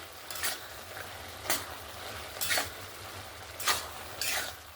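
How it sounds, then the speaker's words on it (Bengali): A spoon stirs bottle gourd curry simmering in its own water in a pan, giving five distinct scraping strokes at a steady rhythm over a soft continuous sizzle, close up with no voices. "আবারও একবার ভালো করে নাড়াচাড়া করে নিলাম"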